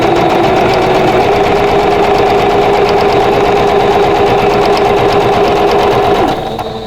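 Sewing machine chain-piecing quilt block pieces one after another at a 2.0 stitch length, a loud, steady, continuous whirring hum of rapid stitching that runs unbroken before stopping abruptly near the end.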